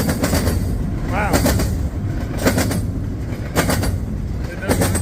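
A freight train led by a single locomotive rumbles past close by, loud and continuous, with the wheels giving a rhythmic clatter and repeated clanks over the rail joints.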